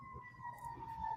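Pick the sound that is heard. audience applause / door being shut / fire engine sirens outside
fire engine sirens outside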